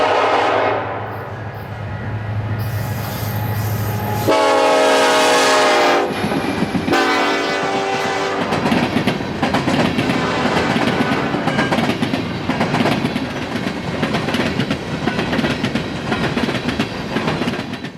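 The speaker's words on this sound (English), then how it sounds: "we'll see CN train C787 passing by some grain silos just on the edge of Green Valley" A Canadian National freight train, C787, passes grain silos at the edge of Green Valley, Illinois, in fresh snow, sounding its horn in long blasts before a steady rumble and clatter of cars rolls by close.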